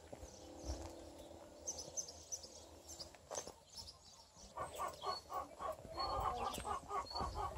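Chickens and a rooster in a Turkish village yard at Adatepe near Ayvalık, with repeated clucking and calls building into a rhythmic run of loud crowing-like bursts toward the end, fairly close.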